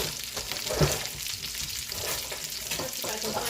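Pork chops sizzle steadily in a hot pan, a continuous crackling hiss with one brief louder clatter as a brush and sauce go on; no voices.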